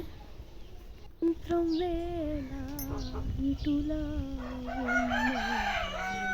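A rooster crows nearby in a long drawn-out call amid clucking chickens being fed, followed by more crowing and a faint overlapping call from the flock.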